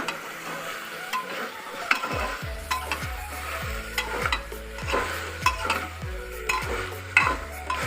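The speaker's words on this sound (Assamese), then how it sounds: "এইখিনি মই এতিয়া অকণমান সময় ঢাকোন দি ভাজি কৰিম।" Mutton curry fries in a pan with a steady sizzle while a utensil stirs and scrapes it in a quick, regular rhythm, up close with no voices.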